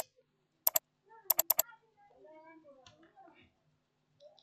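A computer mouse clicks while someone works in Google Sheets: a quick sharp pair of clicks, then a rapid run of three, all close and crisp, followed by soft, quiet talking.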